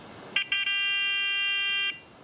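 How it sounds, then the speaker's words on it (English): A piezo engine warning buzzer wired to a Link ECU auxiliary output in a 1UZ-powered Hiace van gives two short chirps and then a steady, piercing tone that holds for about a second and a half before cutting off. "if the engine gets over 100 degrees, or it loses the oil pressure from the oil pressure switch, the buzzer goes off, like this"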